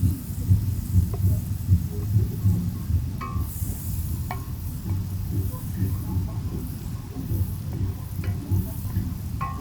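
Butter and Jamaican seasoning frying in a pot at an outdoor cooking spot, a low steady sizzle with occasional soft clinks and stirring taps layered over it.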